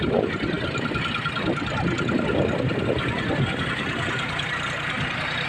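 A steady, loud diesel engine drones and rumbles without pause as a tractor works a paddy field nearby, with a constant low mechanical roar.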